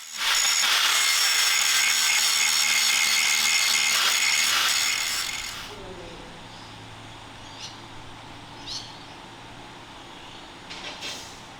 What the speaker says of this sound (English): grind a V on both sides of the hatch and the new piece that he's just cut